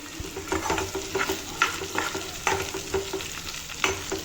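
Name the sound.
onions frying in a pan on low flame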